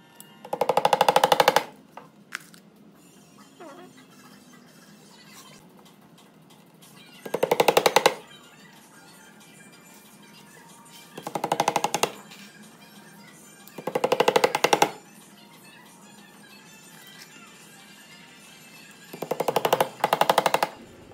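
Hammer strikes driving nails into a shoe during shoemaking, stiffener work on a last: five separate bursts of rapid, loud metallic tapping, each lasting about a second, spaced several seconds apart over a quiet background.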